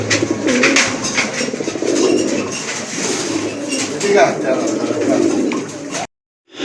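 A pair of Giribaz pigeons coo repeatedly in low, rolling calls, close by and fairly loud, with a brief silence near the end.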